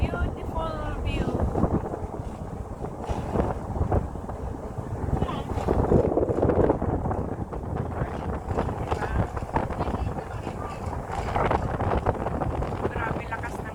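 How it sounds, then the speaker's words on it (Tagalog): Strong wind buffets the microphone on a harbour boat ride, a steady loud rumble and roar throughout with an engine or water churn underneath and voices talking faintly over it. "Grabe lakas ng hangin."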